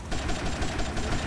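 Gunfire in the GTA Vice City video game during a boat chase, rapid repeated shots over a constant engine rumble, loud and close, no speech.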